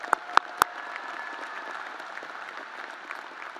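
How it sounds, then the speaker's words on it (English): A business school graduation ceremony audience breaks into applause for PhD graduates, a few sharp near claps at the start giving way to a softer, steady patter of many hands that continues to the end. "Let's give our PhD graduates another big round of applause."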